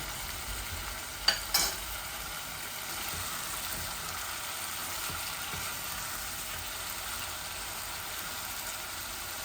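Chicken and potato curry frying in oil while being stirred, a soft, steady sizzle with one brief utensil clink early on, otherwise faint and even throughout.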